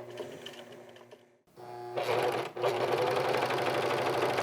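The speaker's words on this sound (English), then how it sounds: "a little zigzag stitch right where the placket meets this seam, just to add a little bit of strength" A sewing machine runs a zigzag stitch where a shirt placket meets a seam, a close rhythmic mechanical whirring that pauses briefly and then resumes faster and louder.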